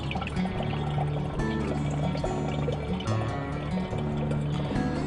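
Clean filtered water trickles and pours from an AquaPail emergency water filter into the container below, a continuous close splashing and gurgle.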